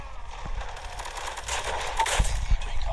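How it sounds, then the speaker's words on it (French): Weapon fire in the mobile shooter game Call of Duty Mobile: a few sharp shot bursts over a busy game soundscape, moderately loud. "Ok, j'ai mis quelques balles."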